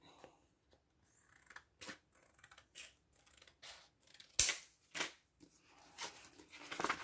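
Scissors snip through a small paper stamp pouch in a series of short, close, crisp cuts spaced irregularly, with quiet pauses between them and no talking.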